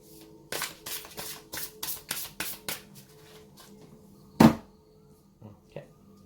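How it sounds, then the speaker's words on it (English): Tarot cards are shuffled by hand in a series of quick riffling bursts, close and fairly quiet, followed by a single sharp tap and a few soft handling sounds. "So, actually I need to shuffle this as well."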